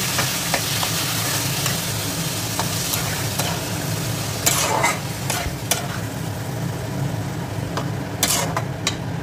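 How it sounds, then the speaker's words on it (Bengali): Marinated soybean chunks fry in masala with tomato, a constant hiss and sizzle under a low background hum, punctuated by several sharper bursts of spatter and scraping as the pan is stirred. "আমি এই ম্যারিনেট করা সয়াবিনটা এর মধ্যে দিয়ে দেবো। দিয়ে ভালোভাবে একটু কষিয়ে নেব।"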